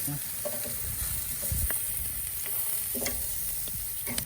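Chicken cooking in a covered pot over an open fire sizzles and fries steadily, a close, continuous crackle broken by a few clanks and scrapes as the pieces are turned.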